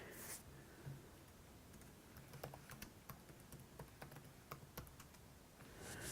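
Quiet, close keystrokes on a computer keyboard tap out a command in a drone configuration command line, arriving in irregular clicks and short runs, with no voices.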